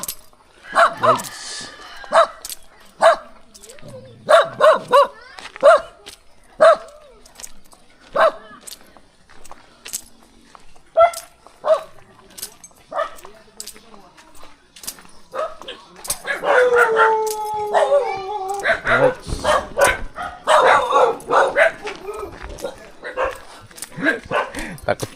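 A dog barks in sharp repeated bursts, then breaks into drawn-out howls and whimpering yelps, loud and near, with people talking now and then between the calls.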